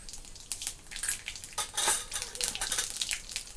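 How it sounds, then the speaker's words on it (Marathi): Cumin and mustard seeds crackle and pop in hot oil in a kadhai for tempering, a quiet, irregular spatter of sharp little bursts with faint clinks of the pan. "जिरी मोहरी छान अशी तडतडली आहे."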